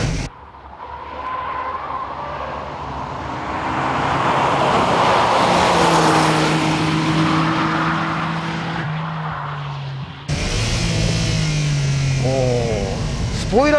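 Nissan Skyline GT-R R34 engine on a circuit, revving loud and close as it climbs and shifts through its six-speed gearbox, with a gear change near the end bringing sharp rising pitch sweeps.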